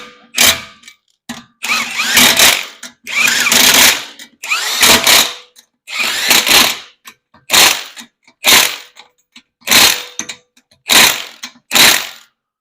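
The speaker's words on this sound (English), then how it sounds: "Okay, got my impact gun, got my torque stick. This is set for 80 foot-pounds." Impact gun driving a torque stick set to 80 foot-pounds, tightening lug nuts on a 2013 Honda CR-V in a star pattern: about a dozen loud, close rattling bursts of hammering, each short and separated by brief pauses, with no talk.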